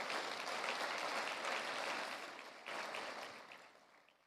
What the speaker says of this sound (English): Let's clap for the team that has had the dream from the very beginning